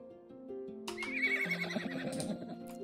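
A foal whinnies in Star Stable Online, a clear, rising and wavering neigh standing out over soft ambient game music, with light hoof clip-clop in the background.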